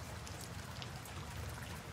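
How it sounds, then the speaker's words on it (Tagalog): Heavy rain falling steadily around a small hut, a dense continuous hiss of drops striking surfaces, unbroken and fairly close with no voices. "Malakas pa rin ang ulan."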